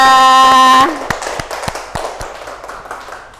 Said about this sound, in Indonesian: beri tepuk tangan kepada kelompok 2